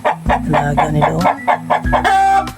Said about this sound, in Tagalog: Ayan, may manok. Hello manok!